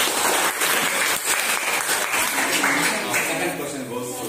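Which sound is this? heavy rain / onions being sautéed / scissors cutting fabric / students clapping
students clapping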